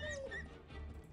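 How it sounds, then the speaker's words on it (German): A brief, quiet whimper from a mangy wolf in the video game Arcanum, with a high falling whine, followed by soft low rumbling, heard faintly. "Hier sind ein paar Wölfe eingezogen. Räudige Wölfe sogar."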